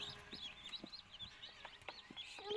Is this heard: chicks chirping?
yes